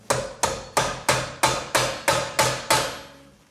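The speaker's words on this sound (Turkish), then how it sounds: "Çekiç yardımıyla." Nine sharp metallic hammer strikes driving a 13 mm socket onto a damaged nut, in a steady, even rhythm, each ringing briefly before the next blow, loud and close with no talking.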